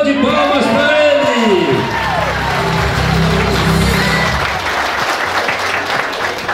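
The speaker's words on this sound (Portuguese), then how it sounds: "Uma salva de palmas para ele!" Loud crowd applause with whoops and cheering swells at a political event for a digital innovation secretary, a voice over a music bed sounding beneath the clapping before it thins out.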